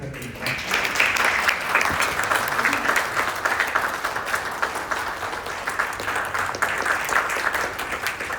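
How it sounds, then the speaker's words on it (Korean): An audience at a university guest lecture on AI in Jeju bursts into steady, sustained applause, many hands clapping densely and evenly for several seconds. "뜨거운 박수 부탁드립니다."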